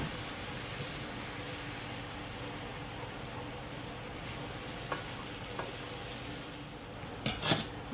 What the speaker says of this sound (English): Give my tortellini a little stir here.